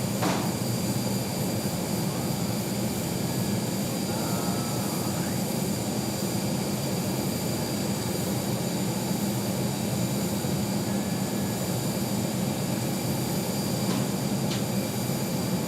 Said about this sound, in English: Watch this A321neo delicately block in here to the B gates.